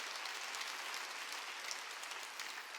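A church congregation claps along during a sermon, a faint, steady patter of many hands heard from a distance with no voices over it.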